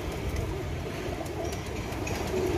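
A Teddy pigeon, a prized flying-breed bird, coos softly and continuously, the low burbling blended with other pigeons and faint background noise.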